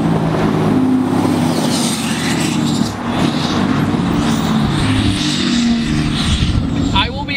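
A Cummins diesel Dodge pickup truck drives along with a deep, loud engine rumble and road noise throughout, a person talking over it, and a brief dip in the drone partway through.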